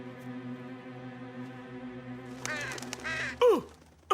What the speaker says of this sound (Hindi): अच्छा, एक कौवा था।